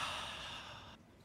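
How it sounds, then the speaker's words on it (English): Breathy exhale or sigh close to the microphone in a Minecraft survival setting, one airy burst lasting about a second before cutting off abruptly. "Who's breathing in my ears?"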